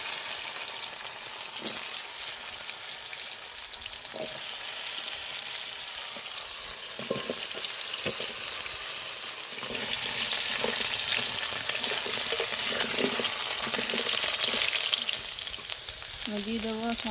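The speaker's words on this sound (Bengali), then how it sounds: "ওই তেলে আমি এবার তরকারিগুলো একটু ভেজে নেব" Vegetables fry in hot oil in a pan after fish and lentil dumplings, a loud continuous sizzle with occasional stirring clatter, swelling a little louder partway through, with no talking.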